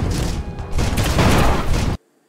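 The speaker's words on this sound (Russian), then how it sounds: "Робот выстрелил" A robot in Mutant Year Zero: Road to Eden fires a loud burst of rapid gunshots, dense booming blasts over about two seconds that cut off abruptly into silence.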